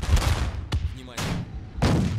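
Tank and artillery gunfire in the World War II strategy game Theatre of War 2, set at Kursk in 1943: a few sharp booming shots with rumbling tails, heard over a steady low battle din with a voice speaking.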